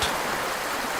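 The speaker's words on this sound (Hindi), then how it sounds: "बहता हुआ पानी" A stream rushes steadily, a continuous bright gurgling flow close by, with no voices.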